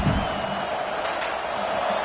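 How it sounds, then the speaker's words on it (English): A football stadium crowd roars steadily against the offense, a dense, continuous wash of massed voices holding at an even level throughout. "This crowd trying to make life miserable for this offense"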